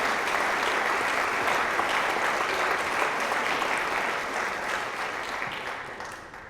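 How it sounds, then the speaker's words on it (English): A crowd at an awards night claps for a committee in a sustained, dense burst of applause that stays loud and fades slightly toward the end, with no talk over it. "So let's give them a round of applause for all of this."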